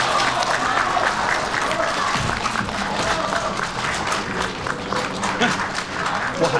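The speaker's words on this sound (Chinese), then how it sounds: "掌声送上" An audience applauds after a stage performance announcement, a dense, continuous roar of clapping from a sizable crowd that holds steady for several seconds without a break.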